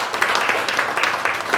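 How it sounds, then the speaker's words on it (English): An audience at a 20th anniversary celebration in Mauritius gives a short round of applause, close, even clapping from many hands with no voices over it. "Let's give a round of applause just one more time."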